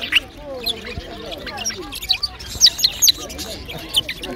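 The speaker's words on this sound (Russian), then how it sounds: "А здесь вот певчие попугаи." Singing parrots chirp and tweet in quick, scattered bursts at a market fair in Kropotkin, over a busy background of murmuring voices and shuffling noise.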